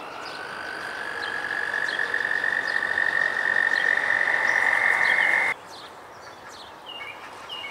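Toads call from a garden bird pond in one loud, close, sustained high trill that stops abruptly near the end, leaving fainter scattered calls and no voices.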